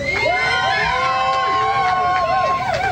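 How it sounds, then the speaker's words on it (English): Crowd at a motocross race cheering a winner at Loretta Lynn's, dense shouting and whistling under an announcer's voice, loud and continuous throughout. "Let's hear it for Levi Letty"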